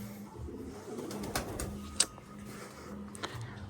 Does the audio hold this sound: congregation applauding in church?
no